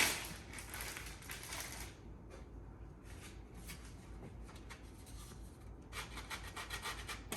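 Cheese rasped across a handheld cheese grater with a broken top handle, repeated close scraping strokes in bursts with short pauses between, no talking.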